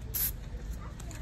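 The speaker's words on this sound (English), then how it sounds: "I'm gonna go ahead and tint this real quick with some spray tint." A short, close hiss of aerosol flower tint sprayed on a hydrangea, followed by faint quieter puffs.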